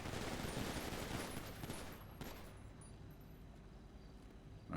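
Gunfire emptying a magazine in the game NoPixel, a dense rapid burst of shots for about two seconds, then a fading tail and quieter residual noise, with no talk.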